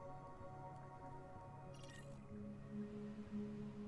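A star mouse-over effect from the Elite video game: a soft, watery synthetic swell that rises over a steady low electronic drone, quiet and brief, with no talk.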